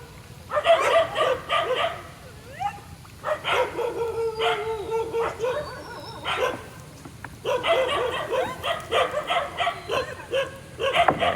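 A big dog barks by a river during a prawn-netting trip, with repeated runs of loud, close barks broken by short pauses and some whimpering.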